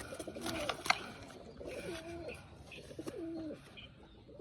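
A male tumbler pigeon coos in repeated soft, rolling phrases, fairly close, with a faint chirp and light background noise.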